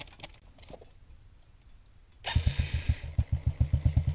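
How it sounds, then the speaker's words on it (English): Honda CRF450RL motorcycle engine cranks on its electric starter and catches, then runs with a loud, rapid rhythmic chugging idle close by after a quieter stretch of background noise. "Electric start's a wonderful thing, isn't it?"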